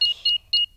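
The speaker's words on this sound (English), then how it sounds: "Switch the alarm back on." A cartoon house alarm being reset gives three short, bright electronic beeps, evenly spaced and fairly loud, with nothing else heard around them.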